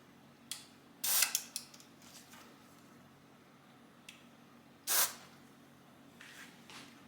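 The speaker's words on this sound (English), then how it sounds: "I'm going to spray a little bit on the trim pots." Cleaner sprayed onto the trim pots of a Technics SL 1900 turntable: several short, sharp hissing spray bursts, one longer double burst early and another strong one later, with quieter spritzes between against a faint background.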